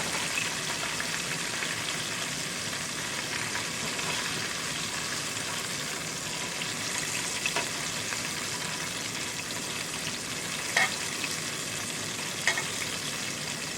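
Crappie fillets deep frying in hot oil give a steady, soft sizzle and bubbling hiss, with a couple of faint clicks near the end and no talking.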